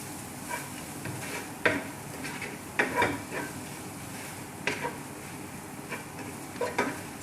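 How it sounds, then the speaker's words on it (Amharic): Spices — turmeric and paprika — being stirred into a little oil in a pan for an Arab-style beef macaroni dinner, with soft scraping strokes and light sizzling in irregular bursts, close by, no talking. "ከዛ ይሄንን እናማስለዋለን"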